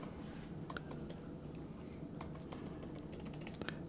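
Light, quiet clicking of keys on a computer keyboard, irregular scattered taps over a faint background hiss.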